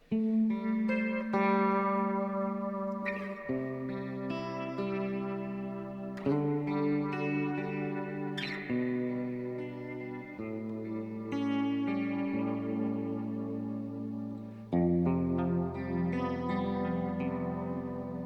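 An electric guitar plays sustained chords and notes washed in lush reverb and chorus, each strum ringing out and blending into long, shimmering tails.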